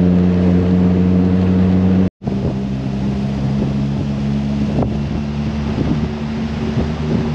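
A Morgan 4/4 75th Anniversary roadster driving an alpine pass road toward the Lechtal, its engine giving a steady droning hum under constant wind noise, broken by one brief dropout near the start.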